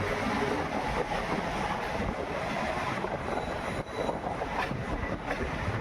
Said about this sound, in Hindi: हाँ, ये है बीकानेर सियालदह दुरंतो एक्सप्रेस 12260।